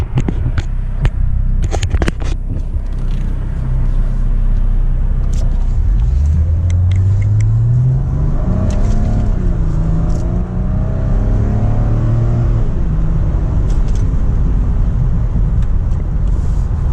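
A turbocharged V8 BMW E36 idles then revs and accelerates as it pulls out of a driveway nearby, with a low rumble and rising engine tone, and some scraping at the start.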